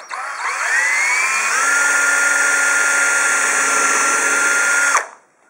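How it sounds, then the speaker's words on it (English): A power drill boring a pilot hole into wood clamped in a vise runs loud and steady for about five seconds, its whine rising in pitch as it spins up, then cutting off abruptly, with no talk. "And I've just drilled my pilot hole."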